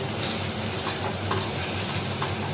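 Chicken being sautéed in a pan, a steady frying sizzle with faint scraping stirs mixed in, close and even throughout with no talk.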